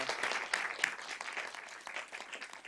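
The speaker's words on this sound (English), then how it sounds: "just ask for a round of applause for Don." An audience applauding after closing remarks at a conference, a fairly faint but continuous crowd of hands clapping with an uneven rhythm throughout.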